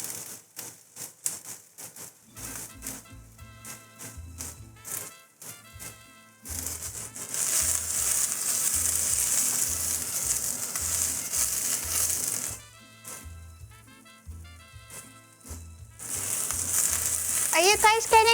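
Onions sizzling in a frying pan while cooking tacos, a loud steady crackling hiss that swells in long bursts, with some clattering and faint talk in the background.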